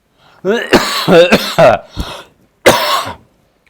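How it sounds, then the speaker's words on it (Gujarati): A person coughs several times in quick, rough bursts, then pauses and gives one more hacking cough, close and loud. "શું થયું? ખાંસી આવે છે?"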